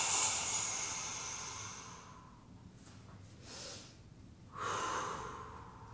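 A person breathes heavily while holding a yoga stretch, with a long hissing exhale followed by quieter snorting breaths and then a fresh, stronger breath. The breathing is close and fairly faint, and no one talks over it.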